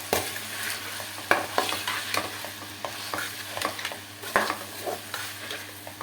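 Onions softening in oil in a pan while being prepared for a tangy-sweet spiced bhindi (okra) dish, a soft steady sizzle broken by repeated scraping stirs of a spoon, close and fairly quiet with no talking.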